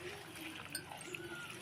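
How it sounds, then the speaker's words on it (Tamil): Water being poured over manathakkali greens to rinse them in a kitchen, a soft, steady trickle and light splashing at close range with faint background hum and no speech. "இப்போ வாங்க தண்ணியை ஊற்றி அலசிக்கலாம் கீரையை."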